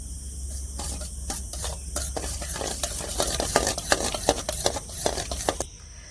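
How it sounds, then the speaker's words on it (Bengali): Starter yogurt mixed with ripe mango pulp is whisked briskly in a bowl, giving a steady run of close, wet stirring and tapping strokes that quicken toward the end, with no talk. "বীজ দইয়ের সাথে আমি শাঁসটা দিয়ে ফেটিয়ে নিচ্ছি"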